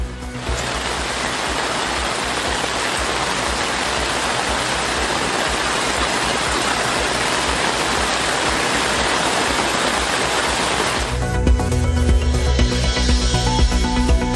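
Heavy rain falling over a Tamil Nadu district, a dense steady roar of rainfall that fills the whole clip, loud and unbroken, with the texture thinning and changing slightly near the end.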